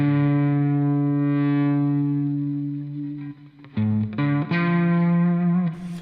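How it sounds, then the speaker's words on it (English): Sustained distorted electric guitar chords ring out through an effects unit with chorus and reverb, loud and alone, then break into shorter stabbed chords near the end, heard during a live guitar stream. "you don't want all that distortion, Paul."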